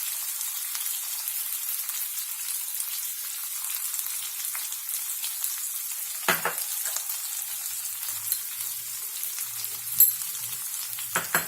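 Potatoes cooking with added sugar and salt give a steady, moderately loud sizzle in the pan as they are mixed, with a few brief scraping knocks from the stirring.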